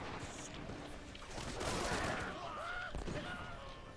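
Distant volleys of musket fire from troops in the Shogun 2: Total War game crackle across a dense battle-noise backdrop, with faint speech mixed in.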